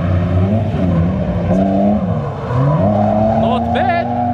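A drift car at a packed beginner night drift event, driven by a visiting driver used to left-hand drive, holds a loud, sustained engine roar that rises and falls with revs. Faint tire squeal and crowd talk sit underneath.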